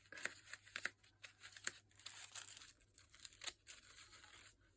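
Scissors snip paper close by while trimming a page of a handmade book of dried flowers and leaves. The soft crisp cuts come in an irregular series with light rustling in between, quiet and without any speech.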